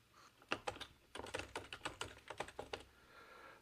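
Fingers typing a password on a computer keyboard during a SQL login setup, a quick run of light, close clicking keystrokes in irregular bursts, alone with no talk.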